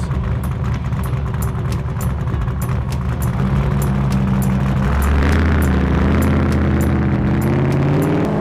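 An 850-horsepower Baja trophy truck engine at speed off-road, a loud steady drone that deepens and builds as the throttle opens, with rattling clicks over the top.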